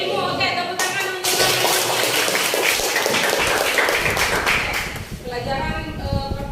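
Classroom of students clapping together in loud, dense applause lasting several seconds, with voices mixed in and the clapping easing off near the end.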